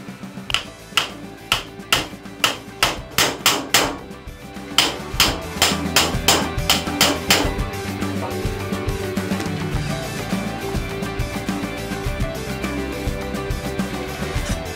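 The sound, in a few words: hammer striking impact screwdriver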